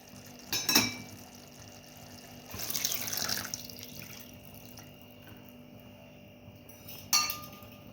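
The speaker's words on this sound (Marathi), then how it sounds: "आता आपण ते पाणी याच्यामध्ये टाकून घेऊया" A few brief splashy bursts of hot water poured into a pot of mutton, separated by quiet gaps, with faint clinks of metal and glass; fairly soft and close.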